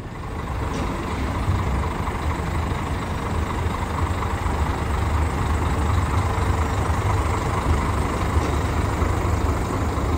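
Trucks and buses rolling off a ferry during unloading, a loud continuous rumble of heavy diesel engines with hiss and clatter from the vehicle deck, steady throughout.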